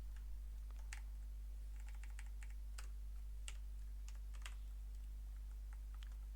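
Quiet typing on a computer keyboard during a C programming lesson, scattered key clicks in short bursts over a steady low electrical hum, no talking.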